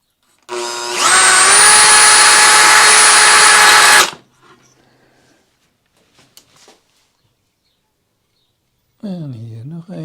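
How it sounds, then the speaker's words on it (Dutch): A power drill with a sharp bit bores a small hole in aluminium, a loud, steady high whine for about three seconds that stops abruptly, followed by faint handling sounds and a voice. "En dan is het kwestie van met een scherpe boor een gaatje boren."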